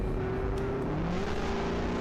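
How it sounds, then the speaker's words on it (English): A car engine revs in a steady, loud drone with a sustained tone that dips and climbs slightly, sounding like a race car at speed with no voices over it. "Make that car moan. Make it scream."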